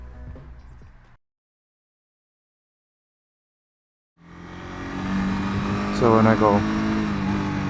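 A 2017 Honda CB300F motorcycle engine comes in after a short silence, idling and then rising under applied throttle with a quick revving climb, loud and close, while someone speaks briefly at the start.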